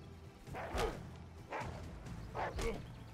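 Wolves in the video game Achilles Legends Untold give three short, rough barks spaced about a second apart, each fairly loud and close, over a low game background.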